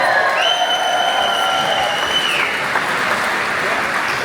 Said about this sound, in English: The guy who got the loudest cheer, Lando Norris.